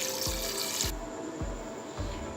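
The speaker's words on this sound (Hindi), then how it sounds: "इसके अंदर पानी डालेंगे।" Water poured into a pressure cooker holding washed beef pieces while cooking bhuna gosht, a steady gushing stream at close range, with no talk.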